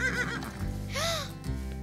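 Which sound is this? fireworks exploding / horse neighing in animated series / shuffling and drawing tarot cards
horse neighing in animated series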